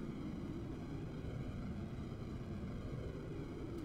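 A homemade, mouse-controlled plane flying in a building game, a steady low engine drone with broadband airflow rush, constant and fairly faint, with no talking.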